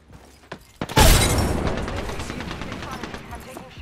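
A frag grenade blast in the battle royale game Apex Legends, a few sharp shots then a loud booming detonation with a long rumbling tail, with players talking around it.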